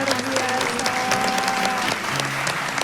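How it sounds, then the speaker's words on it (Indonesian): A crowd applauds steadily throughout, dense clapping at a constant level with a faint tone running underneath. "Kita berikan tepuk tangan"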